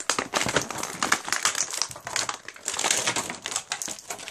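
A Grossery Gang toy package being torn and opened by hand, with dense crinkling and ripping of plastic and cardboard in quick bursts, close and fairly loud throughout.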